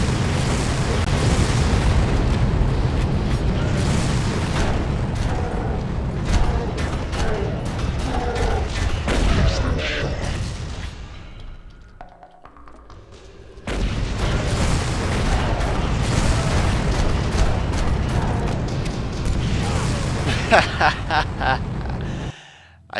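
Rocket explosions and heavy gunfire in the shooter game Far Cry, loud dense booms and blasts filling most of the stretch, dropping out briefly near the middle before the barrage resumes.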